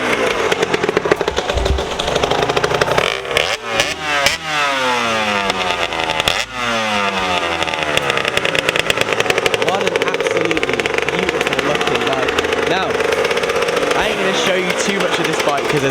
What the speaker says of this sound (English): on his beautiful Aprilia RS 125 two-stroke